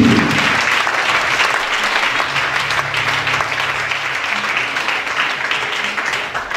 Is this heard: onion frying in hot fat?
no